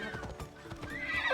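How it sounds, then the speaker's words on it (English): Horse in the video game Assassin's Creed Odyssey, hooves clip-clopping in a quick continuous rhythm with a snort or whinny, moderately loud over game ambience, no talk. "Let's place our passenger on the back of our horse and let's head over on our new majestic steed."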